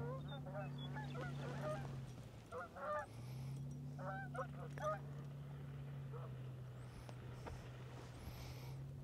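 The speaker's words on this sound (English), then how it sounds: "Flock of duck right there." A flock of ducks honks outdoors in a few scattered bursts of repeated nasal calls, fairly distant, over a continuous low drone.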